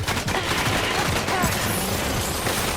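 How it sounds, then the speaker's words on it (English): Continuous gunfire in Death Stranding 2, a dense, loud barrage of overlapping shots and impacts that stays steady and close from start to finish. "Open fire."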